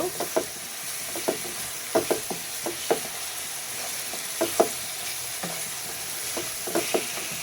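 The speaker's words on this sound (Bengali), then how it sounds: "তো আমার পেঁয়াজ আর রসুন মরিচটাকে একটু বাদামি কালার করে নিব।" Onion, garlic and chili frying in a pan until brown, a continuous sizzle broken by repeated spatula scrapes and clacks in an irregular rhythm, close and with no talk.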